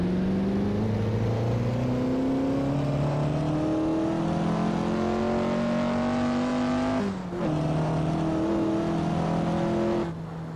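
A TVR Griffith 200 sports car in the Assetto Corsa racing game drives steadily, its engine droning and rising through the gears with brief dips at shifts, loud and continuous with no talking.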